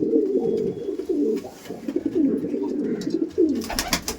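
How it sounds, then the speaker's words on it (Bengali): Giribaz pigeons, Kaldom and Laldom varieties, coo loudly and continuously inside a loft in Barasat, several birds overlapping in rolling, throaty calls. A few sharper rustles and wing sounds rise near the end. "এখানে অনেক পায়রা আছে,"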